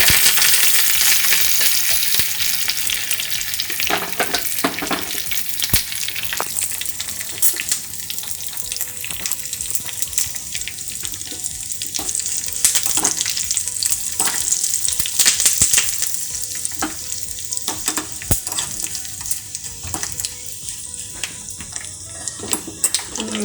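Urad dal, dried red chillies and curry leaves tempering in hot oil crackle and sizzle loudly and continuously, with intermittent sharp ladle clicks and stirring scrapes close by, no one talking.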